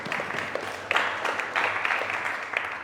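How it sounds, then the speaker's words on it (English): Audience at an onstage conversation event breaking into applause, a dense, even patter of many hands clapping at moderate volume with a few louder swells. "thank you, round of applause."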